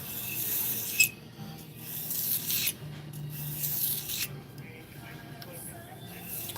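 A steel blade's grooves being smoothed with 800 grit abrasive before buffing, heard as soft intermittent rubbing and hissing strokes over a low background hum.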